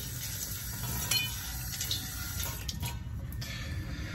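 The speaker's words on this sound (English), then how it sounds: "I'm going to rinse this down." Running water rinsing slurry off a sharpening stone, a steady close splashing and trickling wash with faint scraping touches, continuous and low in level with no talking.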